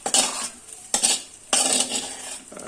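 Fried rice stirred and sautéed in a pan over a medium flame, with three loud bursts of spatula scraping and clattering against the metal over a steady sizzle, and no voices.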